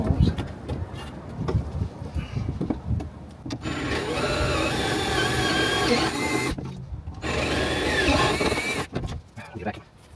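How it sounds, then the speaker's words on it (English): Power drill boring holes while building an RV slide-out toolbox drawer, giving a loud, close, whining mechanical run with a couple of brief pauses between bursts. "Let's drill these holes."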